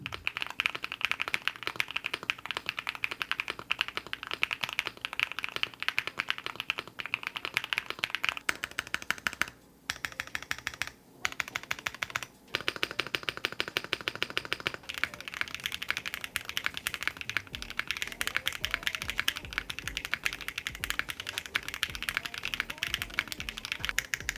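Steady, fast typing on a Luminkey60 Pro mechanical keyboard without its foams, with crisp clacky keystrokes in continuous bursts and a couple of brief pauses.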